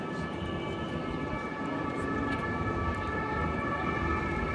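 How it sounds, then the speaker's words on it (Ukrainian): A busy city street in Paris, with a steady wash of traffic noise and a siren wailing continuously through it at moderate distance. No voices stand out. "Все гудить, Боже, який шум в місті."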